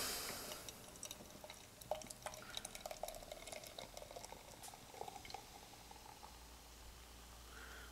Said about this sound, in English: Alright, let's give it a pour.